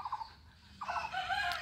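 Fayoumi and Sonali chickens cluck faintly in a backyard coop: two short bursts of calls, a brief lull, then a longer run of clucking. No one speaks.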